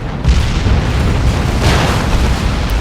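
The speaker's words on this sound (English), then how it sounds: "Going to eat a Demolisher Cannon if they're not careful" A loud, deep blast from a Demolisher Cannon shell exploding in the Dawn of War 2 strategy game, a booming burst followed by sustained rumbling debris that stays heavy to the end.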